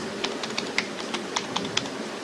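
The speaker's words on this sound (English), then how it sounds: "I'll just type in a password here" Password typed on a computer keyboard, a run of about ten separate keystrokes in an uneven rhythm, close and fairly quiet against a steady low room hum, with no voices.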